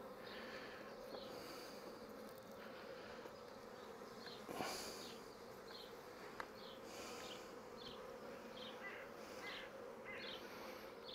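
Honeybees hum steadily around an open hive as a few fly out and straight back in, the soft buzz broken by faint brief higher whines of passing insects and an occasional small knock.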